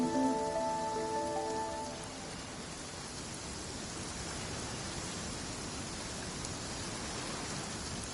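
Steady rain falling on surfaces, a dense even hiss of drops that continues unbroken, with a brief tonal sound fading out in the first two seconds.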